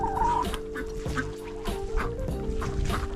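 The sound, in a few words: chickens clucking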